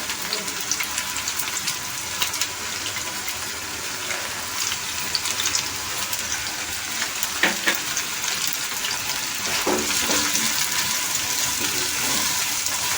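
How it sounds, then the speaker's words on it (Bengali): Young jackfruit and long-sliced onion fry in hot oil in a pan, giving a steady loud sizzle with occasional stirring knocks and scrapes throughout. "এঁচো ভাজার সঙ্গে সঙ্গে আমি এর মধ্যে একটি বড় সাইজের যে পেঁয়াজ লম্বা করে কুচিয়ে রেখেছি সেটাও ভাজতে দিয়ে দেবো"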